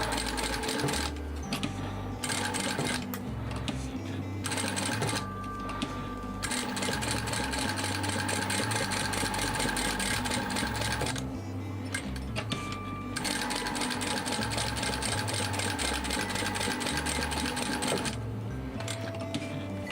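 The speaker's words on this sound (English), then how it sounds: "So I just like to top stitch it down to make sure." A sewing machine top stitches a floral water bottle bag in several bursts of rapid, even needle chatter with short quiet gaps between runs, close and steady, no speech.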